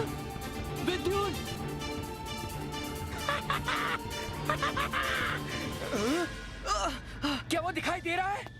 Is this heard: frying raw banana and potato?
no